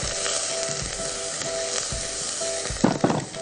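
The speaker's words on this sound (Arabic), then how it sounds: "خد بقى معلقه واقلب البصله كده مع الزبده على طاسه ما تحرقش" Chopped onion sizzles in butter in a frying pan with a steady crackling hiss, broken by a few scraping stirs of a spoon near the end, close and fairly quiet with no talking.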